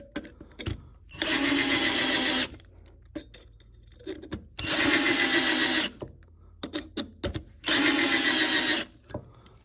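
A Harbor Freight Warrior 12V lithium cordless drill whirs into wood in three sustained bursts of about a second or two each, separated by quieter pauses with small clicks and handling noises.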